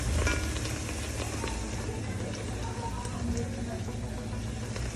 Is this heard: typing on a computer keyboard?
no